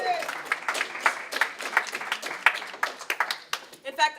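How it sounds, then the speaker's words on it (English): An audience at a 50th anniversary commemoration of the SF State strike claps in scattered, uneven bursts with voices mixed in, ending with someone speaking close by. "Can we give a holler?"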